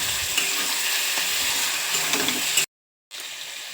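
Mutton pieces sizzle and crackle as they are stirred with spices in a hot pan, a close, steady frying sound broken by one brief silent gap near the end.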